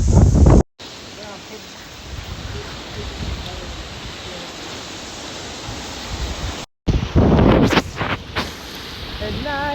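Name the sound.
strong wind at the beach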